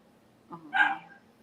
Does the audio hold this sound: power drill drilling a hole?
no